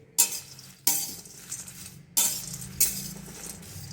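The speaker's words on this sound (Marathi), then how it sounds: "आता हे खोबरं थोडं भाजून घेते" Grated coconut being roasted in a pan for chutney, heard as four loud scraping strokes of a utensil against the pan with a faint sizzle between them, close and without talking.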